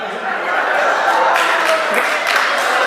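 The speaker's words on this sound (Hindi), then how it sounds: "जिन्हें लेके डूबी है वो ऊपर हाथ करके तालियां बजा" Audience clapping with hands raised at a devotional bhajan gathering, a steady wash of crowd applause with some murmuring and chuckles underneath.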